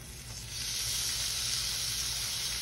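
Snapper fillets sizzle in a hot grill pan, a steady bright frying hiss that swells after a brief quieter start and then holds evenly, with no talking.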